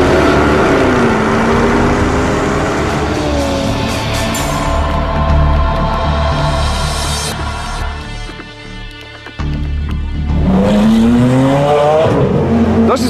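A Jaguar XK sports car laps the Grobnik race track, its engine loud and close, revving up and down through gear changes, with tyre squeal and a brief dip before it roars back.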